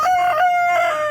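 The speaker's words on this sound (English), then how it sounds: "roosters specifically, all over the neighborhood. And this point of the day, which is roughly almost noon, that's when my roosters go" A rooster crows once nearby in a residential neighborhood, a single drawn-out, clear call with a slight break in the middle, fairly loud against a quiet background.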